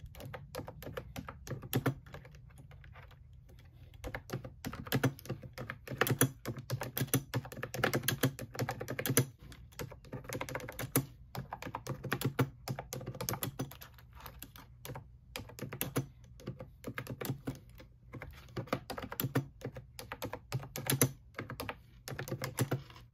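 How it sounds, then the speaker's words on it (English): Someone types on an Amazon-bought computer keyboard, close up, in rapid bursts of clicky keystrokes with brief pauses between runs, alone and with no talking. "this keyboard I got from Amazon"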